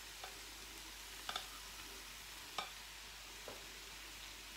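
Fried eggplant is stirred gently in a pan over a faint, steady sizzle, with a few soft clicks and scrapes of the utensil spaced a second or so apart.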